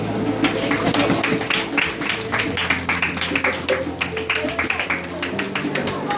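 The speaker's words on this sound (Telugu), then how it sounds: "క్లాప్స్." A crowd claps at a Sunday school program in a prayer house, with irregular clapping scattered through the clip over steady room noise and background chatter.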